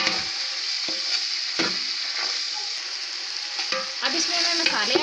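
Mutton pulao with potatoes stirred in a pot over the fire, village style: a steady close sizzle of frying with repeated scraping and stirring strokes throughout.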